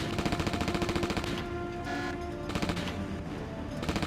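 Rapid laser gunfire from a GameCube shooting game, aimed at blimps, crackles in fast repeating bursts that pause briefly and resume, loud and steady under a layer of game music and effects.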